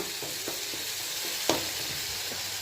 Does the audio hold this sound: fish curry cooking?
yes